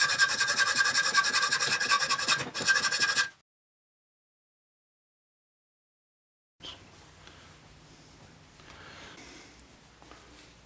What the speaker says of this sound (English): So now what I'm doing is cutting a slot in the end of the threaded rod